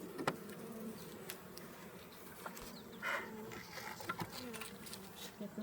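Honeybees buzz around a hive in a steady, faint drone outdoors, with a few louder passes close by and a little quiet talk.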